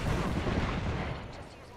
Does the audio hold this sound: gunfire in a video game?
yes